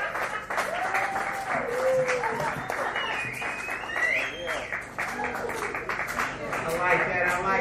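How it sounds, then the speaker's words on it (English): Audience applause and cheering at a dive bar comedy show, a steady, dense roar of clapping lasting throughout, with whoops and voices mixed in. "Another round of applause for the RJ"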